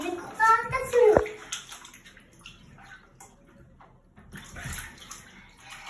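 A child blows bubbles into pool water, giving a short burst of bubbling and gurgling with a voice and adult talk around it, then quieter splashes.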